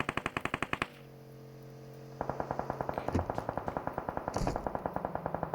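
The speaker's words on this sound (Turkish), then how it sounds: "Ha Uzi orada bak sıkıyor Uzi." Uzi submachine gun fire in a video game: rapid rhythmic bursts, a short burst, a pause, then a longer steady stream of shots, fairly close.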